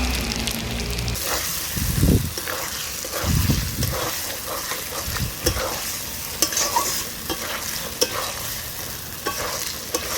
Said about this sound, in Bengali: আর কিছুক্ষণ আমি চিকেনটাকে ভালো করে কষিয়ে নেব